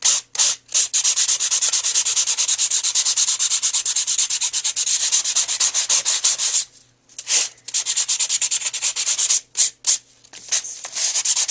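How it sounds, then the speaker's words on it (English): Sandpaper rubbing briskly over an embossed wood-grain texture on a paper card, a steady continuous scratchy hiss broken by a few short pauses as the strokes restart, close and clear without talk. "I'm just going to take my sandpaper, and I'm just going to rub"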